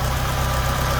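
Ford Escort RS2000 engine ticking over at a steady idle, a close, even low-pitched rumble with a regular pulsing beat and no obvious tappet clatter.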